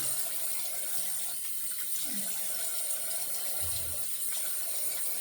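Running tap water splashes softly over a double-edge razor being rinsed at a sink, a quiet steady hiss and trickle with a few brief gurgles.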